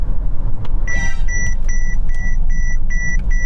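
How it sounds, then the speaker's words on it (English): Repeated electronic warning beeps from a Mercedes EQS SUV's collision warning system as it prepares to auto brake, a short rapid burst followed by evenly spaced tones, heard clearly over the low hum of the car in motion. "that noise is to illustrate that I'm getting too close to the car in front and it wants to auto brake"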